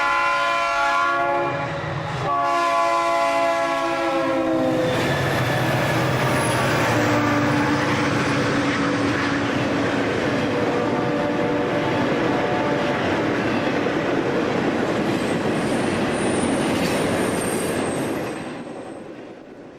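Chicago and North Western TV 202, an eastbound stack train on Conrail track at Oak Harbor, sounds its horn in strong blasts at the start and then rumbles steadily past with wheel squeal and clatter before fading slightly.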